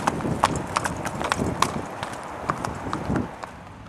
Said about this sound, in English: Trainer Dee Hotton and assistant Marlene drive her down to the infield of the racetrack.